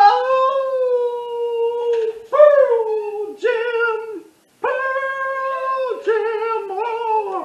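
A dog howls in a home, several long wavering howls of rising and falling pitch separated by short pauses, loud and close, with no voice heard between them.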